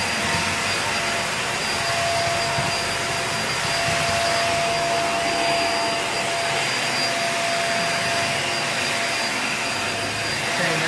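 Hoover React Professional Pet vacuum cleaner runs on a hard floor, a constant loud motor roar and airflow hiss that holds evenly throughout.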